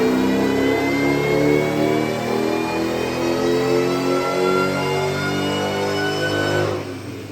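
A supercharged Saleen car pulling hard on a dyno, its engine revving steadily upward in one long, loud sweep with a whining tone before the throttle lifts near the end.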